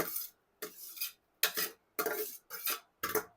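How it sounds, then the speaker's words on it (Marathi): Spoon stirring grated paneer into saffron-tinted milk in a pot over low heat, six scraping strokes in an even rhythm, each about half a second long and separated by short pauses. "गॅस कमी करून हे आपण किसलेलं पनीर ह्यात ॲड करायचं आहे"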